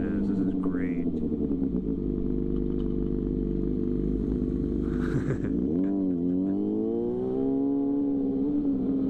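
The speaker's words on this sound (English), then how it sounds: "I love how smooth this engine is." A 2006 Yamaha FZ6 motorcycle engine hums steadily while riding, with a continuous low drone, a brief dip and rise in pitch near the middle as revs change, and wind noise throughout.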